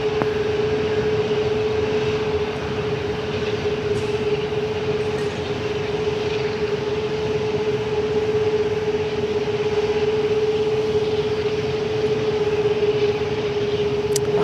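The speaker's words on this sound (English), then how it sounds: "There we go, the Singapore DHL hybrid 777." A Singapore Airlines DHL Boeing 777 freighter takes off from a Sydney Airport runway with a loud, unbroken jet roar and a steady engine whine that holds throughout.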